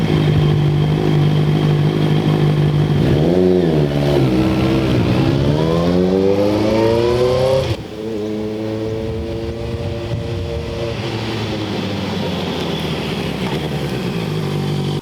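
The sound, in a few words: Honda CBR650R motorcycle engine starting and revving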